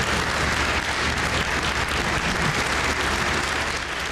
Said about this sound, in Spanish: Aplaudido su retorno